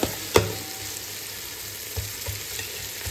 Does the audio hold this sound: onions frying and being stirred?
yes